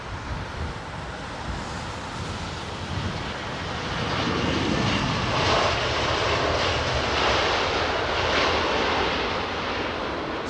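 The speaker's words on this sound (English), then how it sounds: "So some people might ask why sometimes these aircraft sort of like do a wheelie for so long." An aircraft landing on runway 27R at London Heathrow gives a loud, wide engine roar that grows stronger midway and holds steady. Wind rushes on the microphone and no one speaks.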